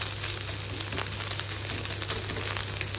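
Carrots fry in a pan for egg fried rice, giving a steady, dense sizzle with faint crackles throughout, close and continuous, with no talking.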